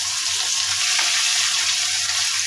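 Onions frying in oil with whole spices for shrimp pulao, a steady close bright sizzle with faint bubbling and no speech.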